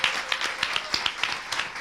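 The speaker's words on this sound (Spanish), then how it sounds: "Un aplauso enorme para todas estas organizaciones" An audience at a public health session claps in a brisk, steady patter of applause, moderately loud and continuous, with faint murmuring underneath.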